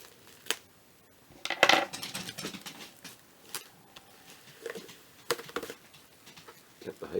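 A gatefold vinyl record sleeve is opened and handled, giving scattered papery rustles, crinkles and a few sharper taps and slides, fairly quiet and close, while a person speaks intermittently.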